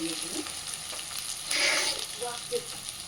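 Ginger garlic paste fries in a pan for chamagadda curry, a steady close sizzle with a brief louder burst of spitting midway and faint stirring clicks, no one talking.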